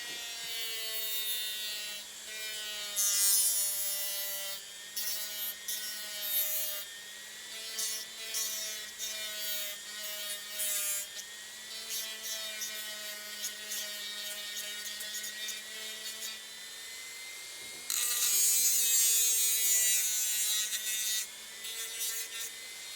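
Veneer wood on a 1:84 Artesania Latina Santisima Trinidad model ship hull being sanded and filed, with steady close rasping strokes over a constant motor-like hum, brighter scraping bursts recurring throughout.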